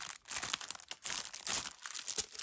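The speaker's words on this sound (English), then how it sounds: "so these are Velcro." Velcro strips on a children's busy board toy are pulled apart in quick, close, raspy rips, several tearing bursts in a row with short pauses, heard alone.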